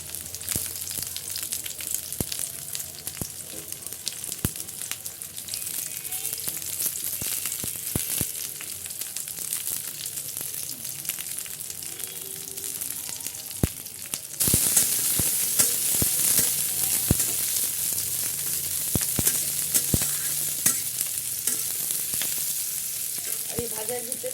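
Green chilies fry with onion and garlic in hot oil, giving a continuous close sizzle and crackle with scattered stirring taps, briefly growing louder as more go in.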